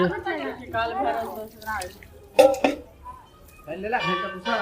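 Water from a tap splashing while someone washes their feet in a home in Rahika, Madhubani: a short burst of running, splashing water mostly under women's conversation in Maithili, close by.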